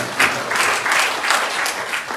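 A church congregation at a joint Easter service claps in lively applause. A short, dense burst of clapping fills the hall, steady and fairly loud, with no talking over it.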